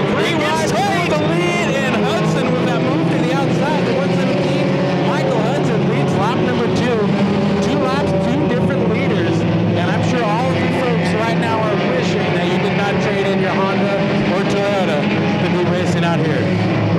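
Race cars run three wide down the front straightaway during an enduro race at Irwindale, engines droning loudly and continuously beneath an excited commentator talking over them.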